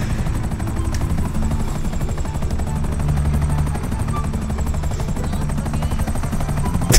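A video game helicopter flies under bridges, its rotor thumping in a steady rapid chop with a constant engine whine throughout, loud and close with no voices.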